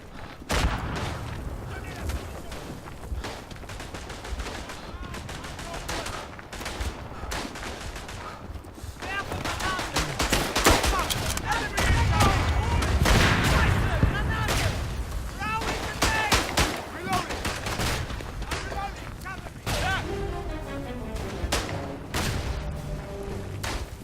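A Verdun World War I shooter plays out a battle: dense rifle and machine-gun fire crackles throughout, swelling into heavier artillery booms and blasts midway, loud and continuous, with a voice speaking briefly over the fighting.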